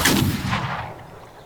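A muzzle-loading gun fires a single loud shot in Gunsmith Simulator, a sharp close blast trailing into a short decaying rumble.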